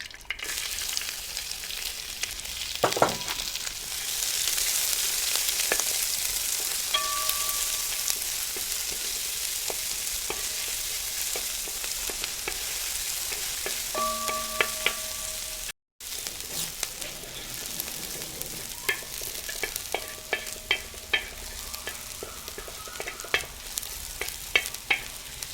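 Finely chopped shallots, about 100 g, and two medium onions fry with curry leaves in hot oil, giving a continuous close crackling sizzle. Sharp utensil clinks stand out over it, with one momentary dropout midway.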